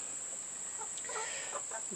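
Backyard chickens clucking in short, soft bursts in the second half, fairly close, over a steady high-pitched hiss from the surroundings.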